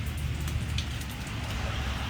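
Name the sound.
large hailstones and heavy rain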